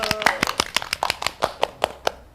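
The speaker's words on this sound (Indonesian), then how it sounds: "Iya, tepuk tangan dulu." A small audience claps hands in a sparse, uneven run of about a dozen distinct claps over two seconds, close and moderately loud, fading out at the end.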